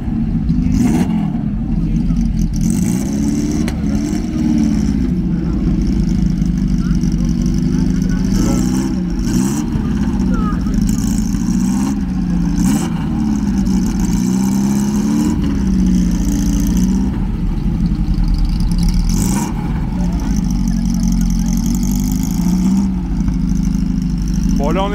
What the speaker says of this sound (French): Ferrari 308 GTB, vous avez entendu le son, c'est vraiment violent